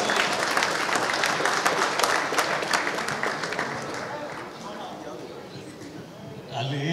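A crowd at a film stage event claps loudly in a thick wash of applause that thins and fades, with a fresh burst rising at the very end.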